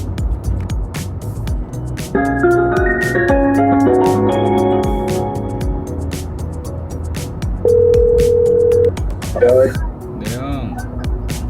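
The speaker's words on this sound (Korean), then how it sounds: "배우 현우 형님에게 전화 거는 중" A phone call placed during a drive: a run of dialing tones gives way to a steady ringback tone, with car noise underneath and a voice talking at times.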